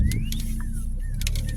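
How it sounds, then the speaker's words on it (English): A 2002 Pontiac Grand Am's engine runs with a steady low rumble heard from inside the car as it pulls away. Faint squeaks and thin whistling tones sit on top of the hum, and no one speaks. "So let's get the car out on the road."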